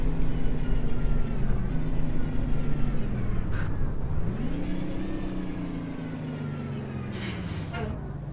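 A heavy Mack Superliner truck engine in American Truck Simulator drones steadily, its pitch dipping and then climbing again as it shifts and revs, with brief hissy bursts near the end.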